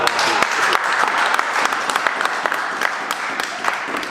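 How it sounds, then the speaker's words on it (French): Audience applause at a church service, a dense, steady clapping from many hands filling the room, close and loud. "acclamons pour lui"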